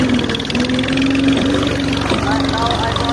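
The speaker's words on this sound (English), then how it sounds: "You can see there's a lot of noise of tractor." Tractor engine running in farm fields at dusk, a loud steady droning hum with constant low rumble throughout, heard close from the driver's position while someone talks over it.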